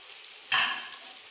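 Masala okra with tomatoes in an open pan bursts into a loud, close sizzle that flares suddenly, then settles into a steady, softer frying hiss.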